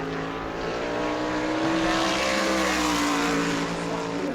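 Modified race car on a qualifying lap at New Smyrna, a loud, steady high-revving engine drone held close throughout with a slowly shifting pitch and no talk over it.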